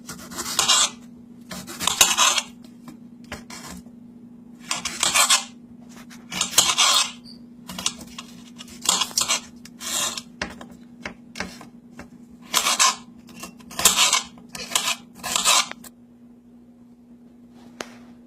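A knife chopping a cored, seeded pepper into quarter-inch cubes on a board, a steady series of crisp, close cutting bursts with short gaps between them over a faint constant hum.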